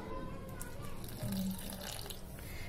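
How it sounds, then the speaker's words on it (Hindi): Water is added little by little to gujiya dough in a kitchen, a quiet trickle and light splashing with a brief, slightly louder pour partway through, under a soft background hum. "अब हम इसमें थोड़ा थोड़ा पानी ऐड करेंगे"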